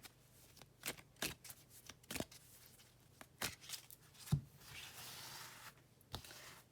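Oracle cards being shuffled by hand, a run of soft, quick riffling slaps and flicks close by with irregular pauses, heard alone in a quiet room.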